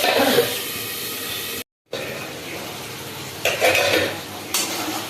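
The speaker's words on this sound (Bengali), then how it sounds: "জল দিয়ে ঢাকা দিয়ে দেবো" A pot of potatoes and water is covered with a lid on the stove, with a metallic clink and scrape of the lid amid a steady cooking hiss, a brief gap, then further clatter.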